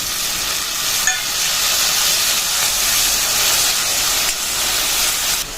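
Chopped tomatoes hit sautéed onions in a hot pan for a jackfruit-seed kara kuzhambu, setting off a loud, steady, close sizzle that hisses on without a break, with a couple of faint stirring clicks.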